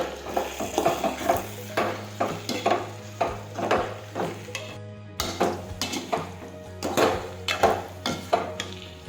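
Turmeric and cumin are stirred into okra and potato in a pan, a spoon striking the pan in a steady rhythm of close clinks and scrapes over a faint low hum, with no talking.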